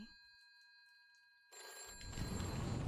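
Telephone ringing in the video game What Remains of Edith Finch: a steady tonal ring sounds alone for about a second and a half, then gets buried under louder broadband noise and rumble.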